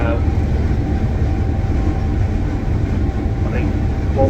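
Steady low rumble and rolling noise fill the inside of a full moving passenger train from Penzance to Birmingham, with faint voices in the carriage.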